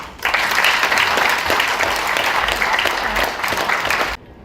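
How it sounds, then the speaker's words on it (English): A press conference crowd at the ADIHEX exhibition at ADNEC, Abu Dhabi, breaks into loud, sustained applause for partners, a thick continuous clatter of many hands that cuts off abruptly at the end. "So we need to clap for all the partners."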